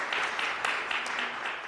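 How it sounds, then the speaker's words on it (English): An audience at a Board of Supervisors meeting claps steadily for a couple of seconds, the dense patter of many hands filling the room at an even, moderate level. "Woohoo! You can clap for that."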